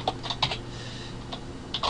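Rapid, uneven clicks of a computer keyboard being typed on at close range, a short burst of keystrokes entering a line of BBC BASIC code, with no voices.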